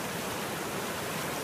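River rapids on the Little North Santiam in spring churn as a dense, continuous roar of rushing water, loud and unbroken for the whole short stretch.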